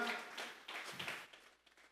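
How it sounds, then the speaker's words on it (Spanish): A church congregation claps hands as an offering to God, a brief burst of quiet, uneven clapping that fades out within two seconds. "Vamos a regalarle ofrenda de palmas al Dios de la gloria"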